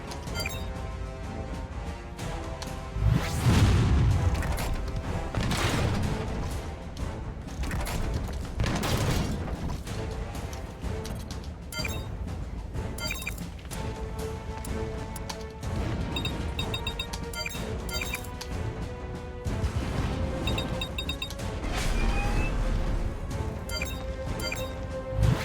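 Missile blasts in the Front Mission 3 Remake video game thud and crash through dense game music and mechanical battle noise, with a heavy impact near the start and more explosions scattered throughout.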